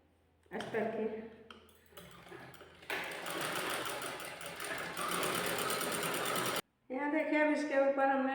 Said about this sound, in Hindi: चलिए इस तरह से पकड़ करके हम एक सिलाई लगा लेंगे